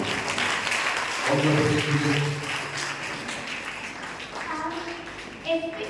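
Audience applause for an 8th-standard student at a young scientists' science event, a broad burst of clapping mixed with voices, swelling in the middle and fading toward the end.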